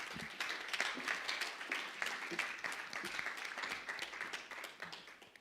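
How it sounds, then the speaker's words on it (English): Applause from the audience at a membership launch event as a winner is called up, a steady patter of many hands clapping with scattered louder claps and faint voices underneath. "Big round of applause."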